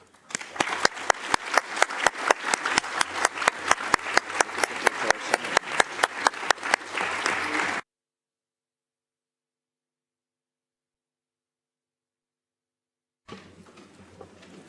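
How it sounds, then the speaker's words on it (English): Rhythmic, steady applause from a symposium audience for the panelists, loud and close at first, then cutting to silence before a fainter stretch of noise returns near the end. "I would ask you to join me in a round of applause to our panelists"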